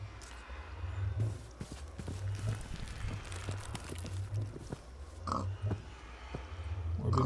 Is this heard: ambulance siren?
no